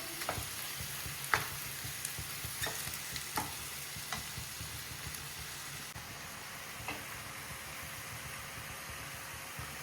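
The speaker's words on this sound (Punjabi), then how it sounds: "ਮਸਾਲਾ ਆਪਣਾ ਭੁੱਜਣ ਲੱਗ ਗਿਆ ਜੀ" Masala seasoned only with salt roasts in a pan, a soft continuous sizzle with occasional sharp clicks and spatula scrapes, faint and steady throughout with a low hum underneath.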